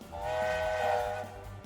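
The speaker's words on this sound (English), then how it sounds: "There we go, the rocket heading off there" Rocket steam locomotive pulling away in a British railway management game, a sustained whistle-like tone rising and holding for nearly two seconds over a low rumbling chuff, fairly close and with no talk.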